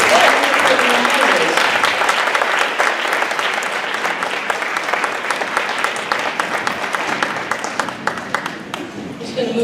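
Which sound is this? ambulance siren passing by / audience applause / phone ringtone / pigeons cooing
audience applause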